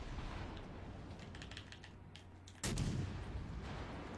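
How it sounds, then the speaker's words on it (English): Gunfire strikes a ship in a naval combat video game: faint sharp cracks and clatter over a low drone, then a sudden heavy boom of impact that lingers as a louder rumble. "Who the fuck is shooting me?"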